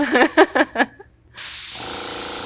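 A steady, loud aerosol spray hiss of paint sprayed onto skin starts after a short burst of speech and a brief pause, continuing evenly to the end.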